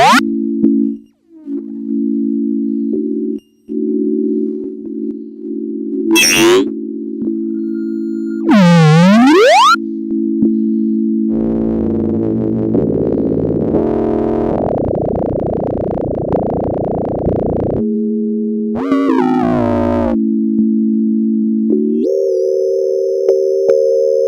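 Frequency modulation effect on a Believotron Wanderlust synthesizer, steady electronic tones that bend, sweep and chirp as the modulation changes, with some gliding, wobbling stretches and a higher buzzy tone near the end, loud and clean with no talking.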